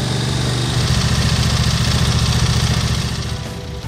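Husqvarna mower with a sweeper brush attachment running, a loud steady engine drone with a buzzing mechanical hum, close and continuous before easing slightly at the end.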